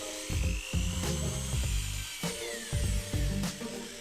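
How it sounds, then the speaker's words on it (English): A power drill bores out the plastic shifter block of a Mitsubishi iMiEV electric car, with close, loud whirring that surges and dips in repeated short bursts as the bit bites into the plastic. "so drill it out"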